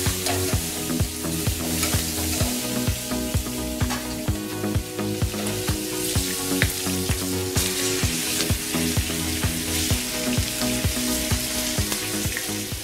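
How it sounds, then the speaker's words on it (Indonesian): Softened potato pieces sauté in a hot pan with a loud, steady sizzle, punctuated by regular scraping stirs and clacks of a utensil, with no talking. "Nah ini potatonya udah mulai soft, kita boleh tumis juga dalam pan"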